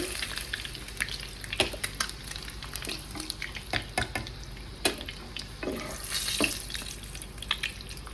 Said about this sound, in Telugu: ఎగ్స్ వేగిపోయాయండి